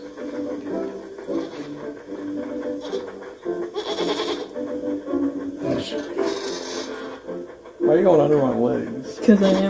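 Repeated goat bleats from the game Blanc sound out between and under people talking, with a louder wavering bleat near the end.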